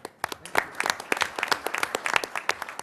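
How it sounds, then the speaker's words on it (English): A modest audience at a school board of trustees meeting claps, with distinct individual claps scattered and uneven, close by and fairly light. "So a round of applause to them."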